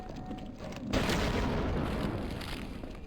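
A grenade blast in the survival game Half-Life: Signal Lost: a quiet moment, then a sudden loud boom that lingers as a broad rumbling wash for a couple of seconds.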